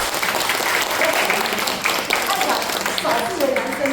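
Applause from a community-college class audience cheering for the few male students, steady dense clapping throughout at moderate loudness with some voices mixed in.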